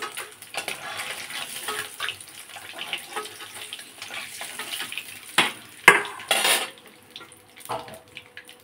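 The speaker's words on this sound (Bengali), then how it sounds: "তাহলে ডিমটা ভেজে নিই" An egg fries in a pan in a home kitchen, with a soft continuous sizzle under clinking utensils and pan handling, plus a few louder knocks near the end.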